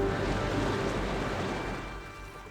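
A vehicle fords a river in Zambia's Luangwa area, water surging and rushing around it while the engine is held at high revs, a continuous loud wash with a deep rumble that eases slightly toward the end.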